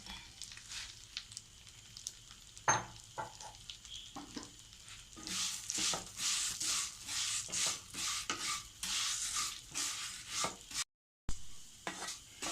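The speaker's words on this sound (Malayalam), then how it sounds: "ഇനി നമുക്ക് ഈ ബെമ്മസിലി ഒന്ന് ചെറിയതായിട്ട് ഗോൾഡൻ കളർ ആവുന്നിടം വരെ ഈ നെയ്ക്കകത്ത്, ബാക്കിയുള്ള നെയ്ക്കകത്തിലൊന്ന് വറുത്തെടുക്കാം" Vermicelli roasting in leftover ghee toward golden for semiya payasam, giving a soft crackling sizzle broken by repeated scraping and stirring strokes against the pan, close and fairly quiet.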